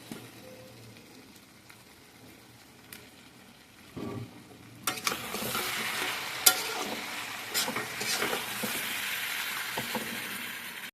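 A fried fish head is tipped into cabbage in a pan: a few seconds of quiet handling, then a loud burst of sizzling with stirring scrapes that keeps crackling close by.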